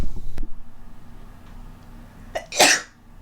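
A single sharp sneeze bursting out near the end after quiet rustling, loud and close, with a brief breathy intake just before it.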